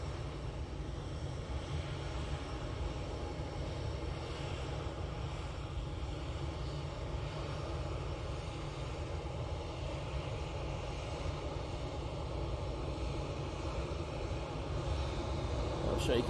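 An EasyJet passenger jet at Manchester Airport gives a continuous, moderately distant engine roar and rumble, holding steady throughout with a faint voice talking over it.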